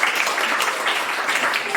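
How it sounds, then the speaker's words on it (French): Audience applauding a mother at an event on menstrual hygiene and disability: a full, steady round of many hands clapping, fairly loud, that cuts off sharply at the end. "Applaudissez pour cette maman."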